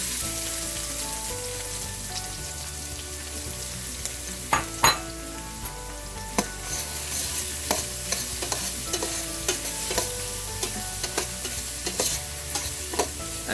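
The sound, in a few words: onions sautéing in a pan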